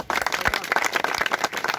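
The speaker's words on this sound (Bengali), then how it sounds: "জোরে একটা হাততালি।" Loud clapping from a gathered group in Bishnupur, a quick burst of rapid, uneven hand claps lasting under two seconds.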